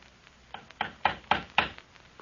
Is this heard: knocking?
yes